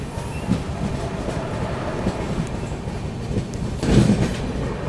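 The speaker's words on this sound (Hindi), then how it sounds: "चलिए निकल गई दोस्तों अपनी ट्रेन जो है मानसी जंक्शन से" The 22412 Arunachal AC Superfast train runs on the rails near Mansi Junction in heavy monsoon rain. A continuous loud rumble with rhythmic clatter swells briefly near the end.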